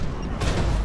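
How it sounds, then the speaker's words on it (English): An in-game grenade blast in the video game Max Payne 3: a sudden broadband burst hits partway through, loud and close over a steady rumble of game noise and gunfire. "Oh, grenade."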